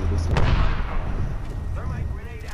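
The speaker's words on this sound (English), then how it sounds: "Thermite grenade out." A thermite grenade going off in a video game, one loud booming burst at the start that rumbles and fades, with a voice partly over it.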